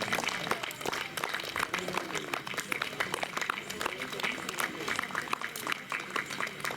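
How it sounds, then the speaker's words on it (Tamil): A church congregation applauds at an evening festival service at St. Fatima Mother church, steady dense clapping throughout, loud and continuous with crowd murmur beneath. "தந்தை அவர்களை கைத்தட்டி நாம் நன்றியோடு நினைத்து பார்வோம்"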